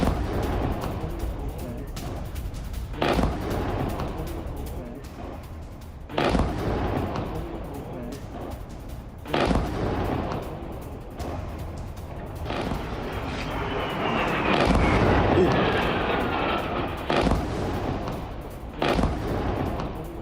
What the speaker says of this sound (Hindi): मुरीद एयरबेस में धमाका।